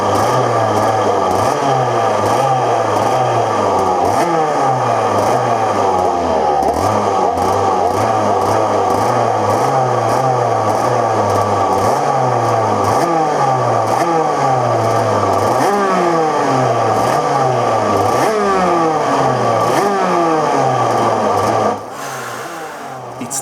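A small racing kart engine on the starting grid revs and buzzes steadily up and down in pitch, loud and close, with a brief dip near the end.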